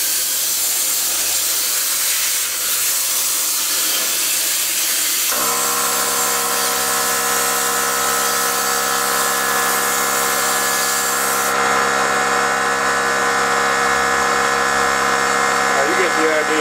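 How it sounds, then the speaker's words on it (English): Compressed air or a blower forcing dust out of a desktop computer case outdoors, a loud steady hiss that starts partway through, shifts into a strong tonal whine, then brightens further as it runs on continuously. "So we're going to try this here and blow out the dust of the computer"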